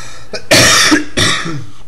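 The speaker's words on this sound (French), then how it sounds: "Donc excusez-moi, je tousse beaucoup." Two rough, forceful coughs in quick succession, close and loud, with a brief breath between them.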